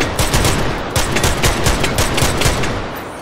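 Heavy automatic gunfire from a big gun in H3VR, loud rapid bursts of close shots hammering continuously for a few seconds with no talk.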